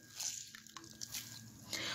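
Grated potatoes squeezed by hand, water trickling and dripping out with soft wet squishes, quiet and close, in a short burst of irregular drips.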